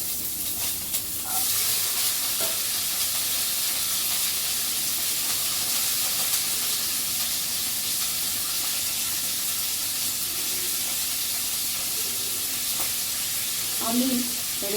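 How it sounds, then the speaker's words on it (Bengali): Sliced bitter gourd (uchhe) frying in a pan, a steady loud sizzle and hiss running throughout with a few faint clinks and stirring sounds near the end. "এবার উচ্ছে ভাজাটা করে নিচ্ছি"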